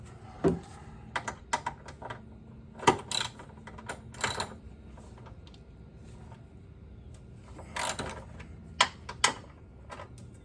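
Metal strut bolts being loosened by hand with a wrench or ratchet on a 1997 Toyota Corolla, giving scattered close clicks, clanks and scrapes with short sharp bursts over a low background hum.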